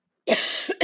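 A single short, harsh cough, close and fairly loud, breaking into two bursts over less than a second.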